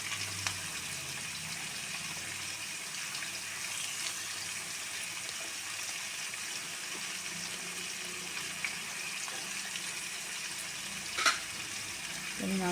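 Boiled jackfruit fries in a pan with salt and turmeric, a steady soft sizzle that stays at one level throughout, with a brief scrape or clatter near the end.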